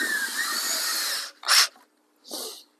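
Power drill driving 3-inch screws into 2x4 lumber while framing a plywood aquarium: a long steady whirring run, then two short separate bursts, close and loud.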